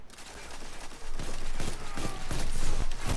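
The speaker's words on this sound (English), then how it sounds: "That sounds like MG." Machine gun fire in a Destiny 2 Iron Banner match, a dense, loud rattle of rapid shots running continuously and building slightly toward the end, with no speech over it.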